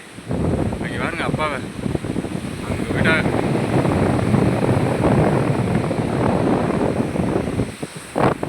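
Strong wind roars across an open shore with surf rumbling beneath, steady throughout, while people talk over it.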